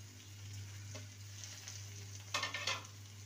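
A spoon stirs fried pointed gourd with shrimp and mashed dried chillies in a pan. Soft sizzling runs throughout, with a short burst of scraping and clattering near the end, all fairly quiet and with no talk.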